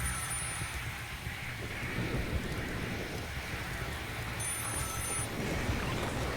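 An electronic telephone in Empire Water Works rings in two bursts of trilling tones, the second arriving after a pause, over a steady hissing game background with no talk.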